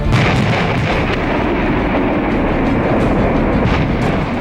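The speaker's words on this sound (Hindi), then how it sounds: "आर्टिलरी चोटी पर आग बरसा रही थी" Artillery fire booms in a dense, continuous barrage on a mountain peak in Mushkoh valley, loud heavy rumbling with repeated thuds layered over one another, with no voices.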